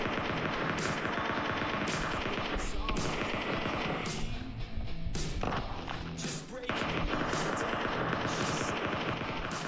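Rapid automatic gunfire in a PUBG Mobile Lite match fights off bots, with dense, continuous bursts of shots close and loud, a brief lull midway, then more firing, while a voice talks over it.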